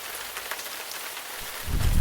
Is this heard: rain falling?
yes